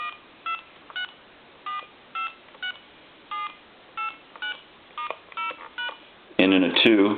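Series of DTMF keypad tones dialed on an AT&T Trimline Model 210 telephone, short paired beeps in an uneven rhythm across several seconds, ending in a burst of louder tone at the close.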